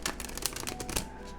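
Tarot cards shuffled overhand, a brief close run of rapid papery flicks and riffling.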